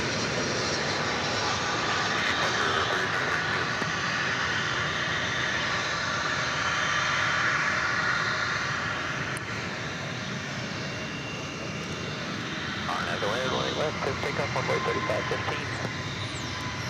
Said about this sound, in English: An American flight coming in from Palm Beach.